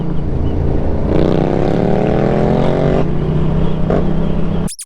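Kawasaki Z650 or Yamaha MT07 motorcycle with an aftermarket exhaust and baffle, a loud, close engine note that rises in pitch as revs climb, holds, then drops before cutting off abruptly.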